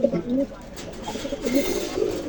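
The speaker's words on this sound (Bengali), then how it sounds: "এই যে দেখেন মাদি কবুতর" A Pakistani highflyer teddy pigeon, a female, coos in low repeated murmurs close by, with a voice talking over the calls and some faint background noise.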